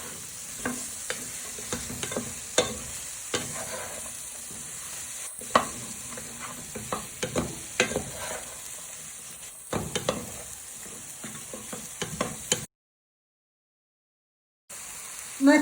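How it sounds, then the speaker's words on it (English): Vegetables for a sausage casserole tossed and stirred in a frying pan, a steady sizzle under repeated scraping and clattering strokes, close and fairly loud, with a brief silent gap near the end. "you give them a good toss with your other vegetables in your pan"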